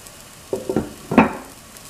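Tofu moilee sauce in a pot stirred with a utensil: a few short soft scraping and bubbling bursts, close and fairly quiet, with no voices.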